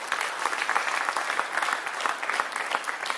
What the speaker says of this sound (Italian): Vi chiedo un applauso per Gavino Loria.